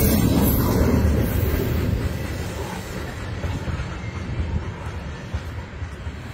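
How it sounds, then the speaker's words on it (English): A freight train rolls past along the Allegheny River in winter, a loud continuous low rumble from the rail cars that eases slightly as it goes on, heard alone without talk. "there's a train that went by from the Mishun Heights area going towards Freeport"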